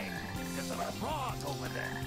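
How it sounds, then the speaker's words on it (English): Frog croaks in the Sonic Heroes video game, a steady run of low croaking layered over game music with tonal background tones throughout, fairly loud and continuous. "there's a frog over there"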